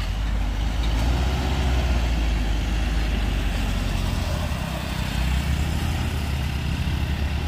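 A Mitsubishi Fuso truck loaded with about 10 tons labours uphill in first gear, its engine a steady, heavy low drone that holds loud and constant throughout without letting up.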